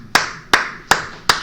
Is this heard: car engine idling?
no